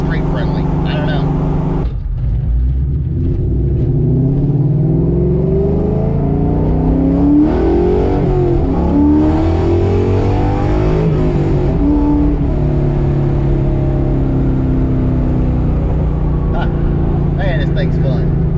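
Foxbody Mustang street car engine revving loudly and steadily throughout, a deep rumble rising and falling under continuous nearby talking.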